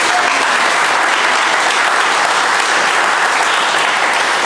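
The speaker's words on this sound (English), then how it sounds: "Let's give them a round of applause." Dense, steady audience applause at a holistic wellness self-care event, loud and continuous with many hands clapping at once, no voices rising above it.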